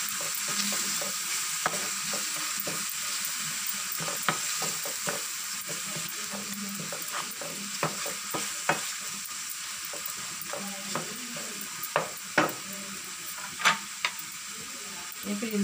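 Flat bean curry with turmeric and salt is stirred in a pan while it fries, giving a continuous low sizzle with irregular spatula scrapes and knocks against the pan, close up and growing sharper toward the end.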